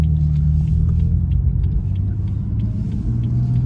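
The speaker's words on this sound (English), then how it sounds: "Yeah, no, these things have super aggressive downshifts." A BMW 435i downshifting hard, its engine giving a deep, steady rumble heard from inside the car with no talking.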